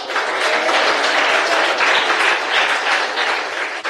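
A church congregation claps together in a dense, loud, continuous burst of applause that holds evenly throughout.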